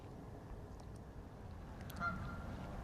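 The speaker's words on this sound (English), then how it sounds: "as the Canada geese set sail back up the river" Faint, distant honking of Canada geese on a British river, a few scattered calls over a steady low outdoor rumble.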